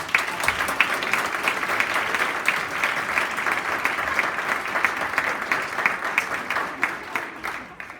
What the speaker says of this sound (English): give those two school communities a big old round of applause